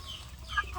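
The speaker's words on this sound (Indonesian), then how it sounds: "anak ayam kampung yang satu umur ya" Free-range village chicks of the same age, kept apart from the hens in a netted pen, give a few faint, soft clucks and peeps. The sounds are brief and sit over low background noise.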